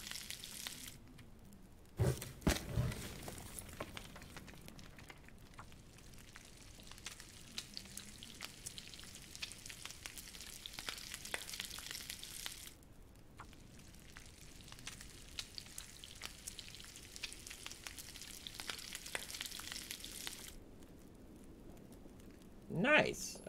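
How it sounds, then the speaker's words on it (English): Quiet frying and sizzling of food cooking over a coal-fed fire in The Long Dark survival game, a soft crackling hiss running on and off through the clip, with a couple of sharper bumps. "We've got quite a bit to cook today."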